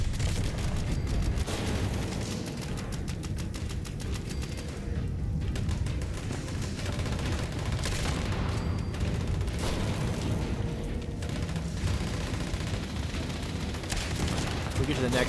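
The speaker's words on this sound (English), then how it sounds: "nice thing about having the explosive with the bow before me is that I can see the explosions" Explosive bow arrows detonate in Fallout 76 as a dense, continuous barrage of booms and gunfire-like blasts, loud and close throughout, with a voice talking faintly underneath.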